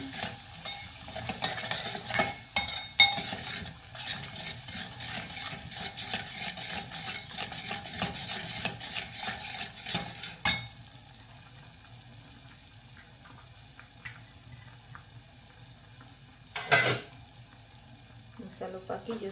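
Spiced masala with a yogurt mixture being stirred in a pan over a high flame for Rajasthani gatte ki sabzi. Busy scraping and stirring runs for about ten seconds, then turns quieter, broken by a couple of sharp knocks.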